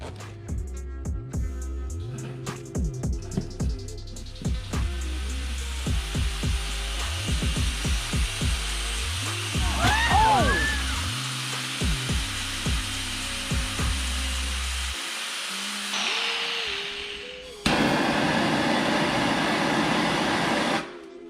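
A power tool cuts through a 10-foot braided hose tube during an engine install. It whines and stutters in short bursts, then holds a steady loud grind and finishes with a harsh, noisy rasp.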